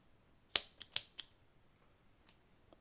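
Scissors cut crochet yarn for an amigurumi gingerbread figure, a few crisp quiet snips in quick succession followed by one fainter snip.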